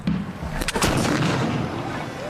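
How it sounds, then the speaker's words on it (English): A flintlock pistol fires a single sharp, loud report, its spring-driven striker sparking flint to ignite the powder, followed by a short echoing tail. "Pull the trigger, that releases a wound-up spring, pushes a metal striker that hits a flint, it sparks, ignites the powder, bang."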